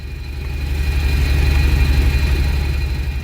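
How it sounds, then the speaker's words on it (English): A truck engine runs steadily nearby at idle, a loud low rumbling drone with a faint high whine, continuous and without talk. "you can probably hear I've got the truck running"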